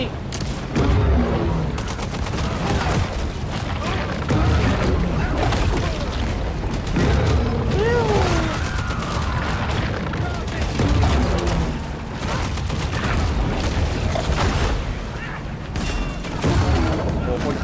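Dynamite explosions go off in the Maneater video game as repeated booms and sharp bursts amid busy game action, with someone talking over them.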